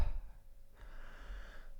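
A person breathes loudly through the mouth, a soft exhale followed by a longer airy breath, close and quiet with no talk.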